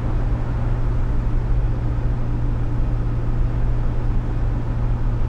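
Bus driving on the Autobahn heard from inside, a steady loud low rumble of engine and road noise with no breaks, no talk.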